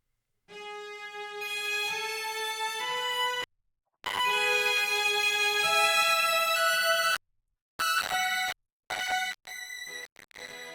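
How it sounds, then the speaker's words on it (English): Three layered zither parts in a Christmas song, bright plucked sustained notes ringing in phrases with short silent gaps, then a few shorter bursts toward the end, alone with no voices. "And we've also got a zither as well"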